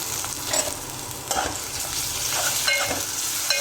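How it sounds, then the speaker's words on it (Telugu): A pan of chicken curry tempering sizzles with a steady broadband hiss, spoon scrapes and stirring clatters cutting in now and then, no voices. "చికెన్ కర్రీకి తాలింపు అయితే పెడుతున్నాను"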